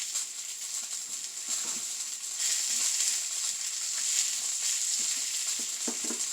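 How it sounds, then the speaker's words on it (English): Potato filling gets mashed with butter, garlic, onion and seasoning by hand for stuffed peppers, giving soft squelching and stirring noises over a constant sizzle of green peppers browning in a pan nearby. "So you just mash everything together with the butter, the garlic, the onion, the seasoning,"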